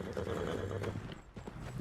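A horse in Red Dead Redemption 2 whinnies briefly, close by, with a few hoof clops and faint rustling around it.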